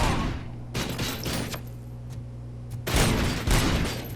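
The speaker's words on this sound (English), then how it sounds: "Stop shooting me." Gunfire in the video game RoboCop: Rogue City, several loud, close shots in uneven bursts over a steady mechanical hum, with a dense cluster of rapid shots near the end.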